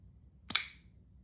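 A Freetiger FT102-BR folding knife snaps shut with a single crisp detent click, sharp and close, with quiet stillness before and after.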